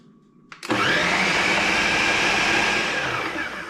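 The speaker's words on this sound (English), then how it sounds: "So I'll get the lid back on the blender, the mixer, and we'll go for one quick mix." A kitchen blender mixing batter starts up abruptly after a brief low hum and runs loudly and steadily, a dense whirring roar that barely changes.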